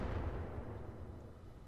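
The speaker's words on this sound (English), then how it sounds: "God, that explosion is so awesome." A deep, rumbling explosion in the video game Roguetech rolls on as a low, muffled roar, quiet and steady for a moment.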